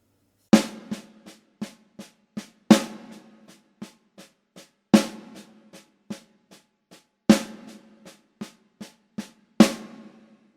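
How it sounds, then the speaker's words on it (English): Snare drum playing a paradiddle-diddle rudiment with the first note of each group accented, crisp strokes in a steady repeating pattern, close and clear, alone without talk. "So the first line that you'll see here is just the standard paradiddle-diddle, all on the snare drum, and we're accenting that very first note."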